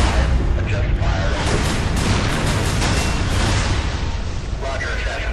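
Field artillery battery firing, dense booming blasts and rumbling reverberation filling the whole stretch, loud and continuous, with voices faintly present underneath.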